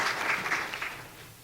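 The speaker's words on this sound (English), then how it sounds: "Please give Alisa another round of applause," A brief burst of audience applause for someone speaker at a children's peace summit, many hands clapping at moderate volume and fading out within a second or so.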